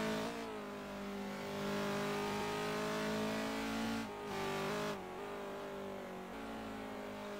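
A race car engine in a DTM racing game drones steadily and loudly at high revs, with slight dips in pitch as it shifts or lifts around the middle, and no talking.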